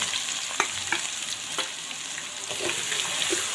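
Masala frying in a pan with curry leaves and paneer, a steady bright sizzle with scattered pops and scraping stirs, close and continuous with no talking.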